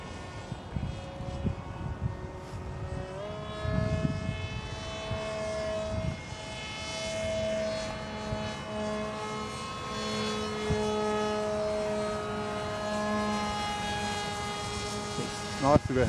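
YF-23 Black Widow RC model jet flying slowly with flaps extended, a steady whining engine tone that shifts pitch as it passes, heard at a distance with a voice talking over it.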